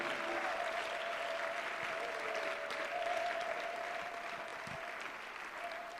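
A congregation applauds the Lord at a mass prayer gathering, steady sustained clapping from many hands filling the room at an even level throughout.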